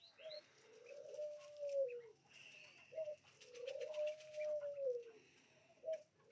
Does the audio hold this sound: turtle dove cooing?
yes